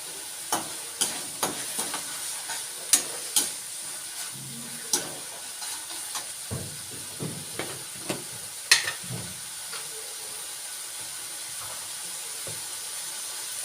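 Tomatoes sizzling in a pan as kasuri methi goes in, a steady soft hiss broken by light stirring clicks and scrapes, fairly faint, with no talk.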